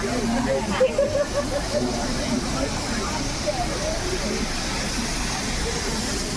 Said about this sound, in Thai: น้ำพุด้วยค่ะมีทั้งน้ำพุและน้ำตกนะคะ